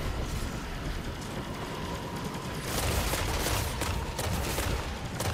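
Enemy gunfire in the Destiny 2 campaign, The Final Shape on Legendary difficulty, a dense steady barrage of rapid shots that swells louder about halfway through and keeps going without a break.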